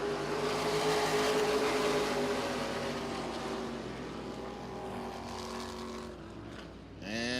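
A race car engine roars steadily at high revs on a short-track race, loud and sustained, with a brief rising whine at the end as the throttle opens again.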